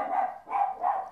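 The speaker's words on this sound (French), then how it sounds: "et mes chiens qui s'énervent, tout va bien." Several dogs bark excitedly indoors, three loud, close bursts at a steady rhythm with no talk over them.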